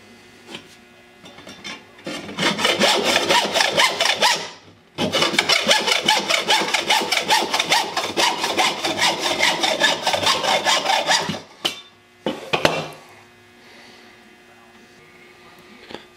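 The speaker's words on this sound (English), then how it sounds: "Now we'll cut this off with a hacksaw, leaving ourselves enough room to weld this back on" A hacksaw cuts through the metal shaft of a vintage screwdriver with steady back-and-forth strokes. Two long runs of sawing are separated by a brief pause, followed by a few short scraping strokes as the cut finishes.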